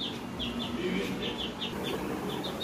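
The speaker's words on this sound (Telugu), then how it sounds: "కోడి పిల్ల కోడి పిల్ల కోడి పిల్ల" Chicks in a village yard give a run of rapid, evenly spaced high peeps at moderate distance over a constant low background murmur.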